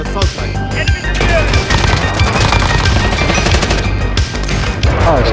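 Rapid automatic gunfire in a Call of Duty match fills the whole stretch, loud and continuous with dense bursts of shots and crashing impacts.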